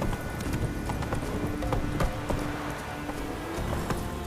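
Horse hooves galloping in the video game Witcher 3, a rapid steady clip-clop rhythm close up over a rushing, rain-like background.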